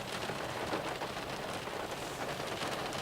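Steady rain drumming on a parked car with the engine off, heard from inside the cabin as a dense, even patter that goes on without a break and with no talking.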